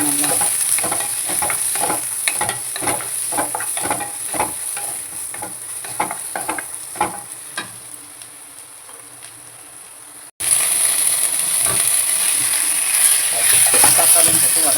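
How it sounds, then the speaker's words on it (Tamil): Onions for vendakkai sambar sauté in a pan, with a loud sizzle and a quick series of spatula stirring scrapes that thins out before a sudden cut to a steadier frying hiss. "வெங்காயத்தை வதக்கிக்கணும் நல்லா."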